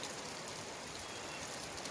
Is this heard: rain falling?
yes